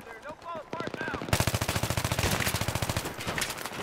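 Sustained rapid automatic gunfire in the video game Battlefield 3, a fast close burst of evenly spaced shots after a few brief electronic blips, loud and continuous to the end.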